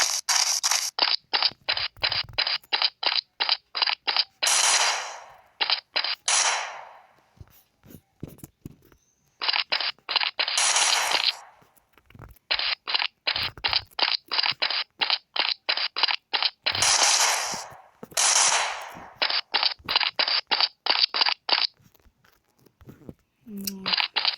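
Rapid bursts of automatic gunfire in a Counter-Strike mobile game on Android, repeated volleys of sharp shots with brief pauses and explosive cracks between, loud and continuous across the stretch.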